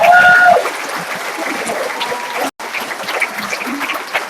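Audience applause at a school winter concert fills the room after band members are recognized, a steady patter of many hands that starts loudest, eases slightly and carries on with a brief dropout midway.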